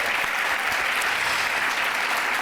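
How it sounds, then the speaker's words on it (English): A round of applause from the audience at a Hispanic Heritage Month celebration event, dense and steady clapping filling the whole moment. "give me one more round of applause for all the HECFAA employees who organized today's events"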